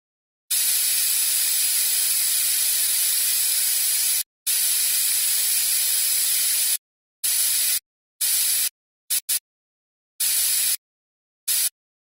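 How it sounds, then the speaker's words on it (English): Dental air spray drying teeth in a surgery video game comes as loud hissing bursts. The first two are long and the later ones are short and choppy, with brief silences between. No voices. "Let's spray some air to get the teeth nice and dry."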